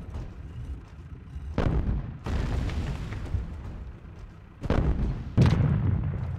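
Artillery fire in Sudden Strike 2, several heavy booming shots landing one after another with rumbling explosions between, loud and close.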